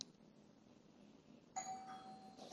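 A household doorbell chimes once at the start and again more clearly around the middle, each ring a bright electronic tone that rings on briefly, faint and alone against a quiet room.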